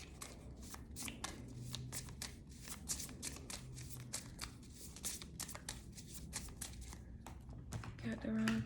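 Tarot cards are shuffled by hand in rapid, crisp riffling bursts, close and fairly quiet, with a short spoken phrase near the end.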